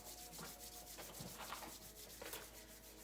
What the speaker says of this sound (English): here now we harvest our chi by rubbing our hands together